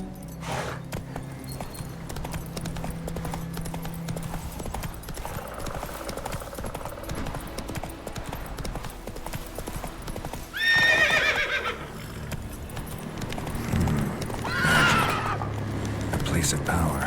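The horse Roach in The Witcher 3, hooves clip-clopping steadily throughout with a loud neigh midway and a whinny later, under a voice speaking briefly.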